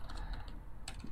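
Typing on a laptop keyboard running SailfishOS in a terminal, a quick run of light plastic key clicks, close and quiet, with no talking.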